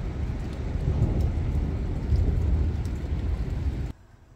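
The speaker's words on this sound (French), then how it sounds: "il y a de l'orage" Low, sustained rumble of a storm with a constant wash of rain or wind noise, cutting off abruptly near the end.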